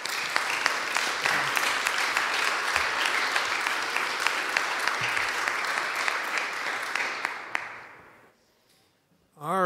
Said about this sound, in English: let's give one last round of applause for Hussein.